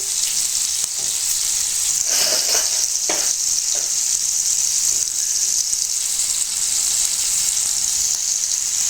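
Fish pieces frying in oil on a stove at low heat, a loud continuous sizzle with a few brief spattering bursts as the pieces are handled, no voices.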